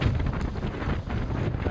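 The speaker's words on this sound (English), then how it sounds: "it is so windy. I might cover up the microphone." Gusty wind buffets the microphone outdoors at Chora on Naxos, Greece, producing a constant loud low rumble and roar for the whole stretch, with no other sounds coming through.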